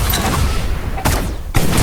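Loud explosive blasts from a gun in the Shell Shockers video game, two sharp booms about half a second apart cutting through a dense, rumbling background of game noise.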